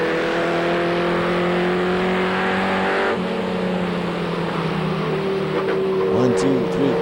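Race trucks roar around Seekonk Speedway from an inboard camera, a steady loud engine drone with a pitch shift midway and rising revs near the end, while a commentator talks throughout.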